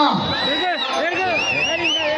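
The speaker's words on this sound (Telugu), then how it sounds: "జనాలు స్పందన విజల్స్ కేకలు" A crowd at a bullock-pair race whistles shrilly and shouts, with rising and falling whistles over a steady din of cheering voices, loud and close.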